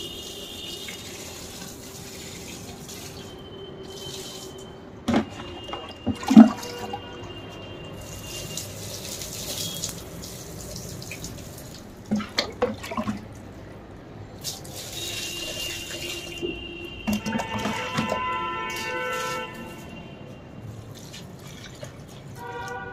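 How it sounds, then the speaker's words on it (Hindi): Water runs from a tap to water potted plants, giving a quiet background trickle broken by scattered splashes and drips. "अभी हम जो है पानी देंगे अपने पौधों को"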